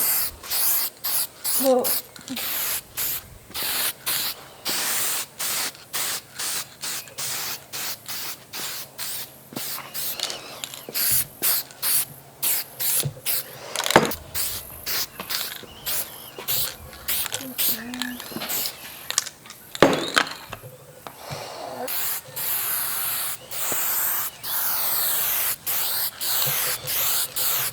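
Clear coat sprayed from a can onto a Squier 50s Classic Vibe Telecaster body in butterscotch, a loud close hiss in many short bursts, some brief and some longer. Someone speaks briefly.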